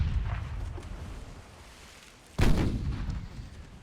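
Heavy naval gunfire from warships in Ultimate Admiral Dreadnoughts, with a rumbling low roar that fades and then one loud, sharp cannon blast whose boom trails off.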